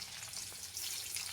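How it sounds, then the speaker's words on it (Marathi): Crushed garlic hitting hot oil already crackling with cumin and mustard seeds, a steady close frying sizzle that swells slightly partway through, with no talk. "तेल टाकलं, त्याच्यात जिरे मोहरी टाकली आणि आता हा लसूण ठेचून टाकला"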